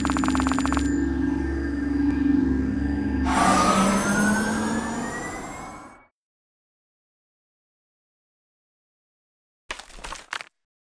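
Ambulance siren in the Kick the Buddy video game, a loud wailing tone that sweeps upward for several seconds over a chiming game sound, then cuts out abruptly, followed by a short burst of game noise.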